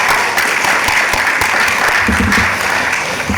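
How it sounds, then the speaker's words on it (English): Loud, sustained applause from a conference audience for a panel of investment speakers, dense and continuous for the whole stretch, with faint murmuring beneath. "if you would give us a little bit of applause for our panelists and myself"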